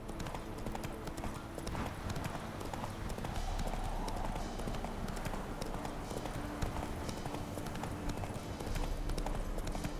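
A horse gallops in The Witcher 3, its rapid clip-clop hoofbeats steady and loud throughout, with faint game ambience beneath.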